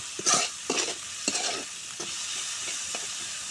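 Chicken skin with salt frying in a small amount of oil in a pan, a steady close sizzle broken by a few scraping stirs of a spatula near the start.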